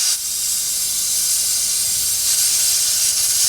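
A jeweler's torch flame hisses steadily while melting metal for a handmade wedding band, a loud, even, bright roar that holds for the whole stretch with no talking.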